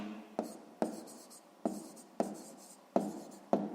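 Pen strokes scratching across a notebook page during a sixth-grade maths exercise, a series of about six short bursts in an uneven rhythm, close and fairly quiet with no voice over them.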